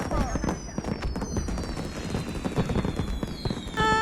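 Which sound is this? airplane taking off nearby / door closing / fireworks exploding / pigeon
fireworks exploding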